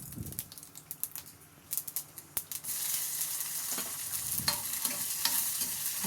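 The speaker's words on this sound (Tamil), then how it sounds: "இப்போ இது தாளிச்சுக்கலாம். கடுகு, உளுத்தம்பருப்பு, ஒரு பச்சை மிளகாய், கருவேப்பிலை" Mustard seeds, urad dal, a green chili and curry leaves tempering in hot oil, starting with scattered sharp pops and crackles that build into a steady close sizzle.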